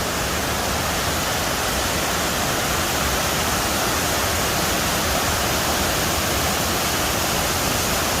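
Heavy water pours over the Ta Kwang Si waterfall in Guangxi in a loud, close, unbroken roar that fills the whole stretch with a broad hiss, and nothing else is heard.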